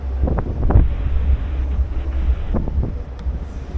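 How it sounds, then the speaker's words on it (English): Cold wind gusts across the open deck of the Norwegian Getaway cruise ship, a loud, steady roar buffeting the microphone with low rumbling, and brief muffled thumps and rustles near it. "there's a tiny, tiny bit of cold wind"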